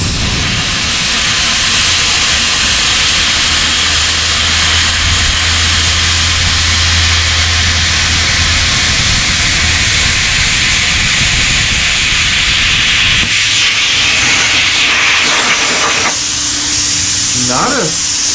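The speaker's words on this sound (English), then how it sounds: "But it's actually cutting all the way through pretty good." BestArc BTC500DP plasma cutter slicing through metal, a steady loud hiss and sizzle running throughout, with a low hum underneath and a few brief clanks and shifts near the end.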